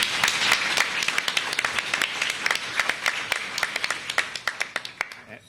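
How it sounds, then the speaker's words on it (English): A school event audience claps for several schools; a dense burst of clapping gradually thins into scattered, distinct individual claps toward the end. "So let's give those schools a round of applause."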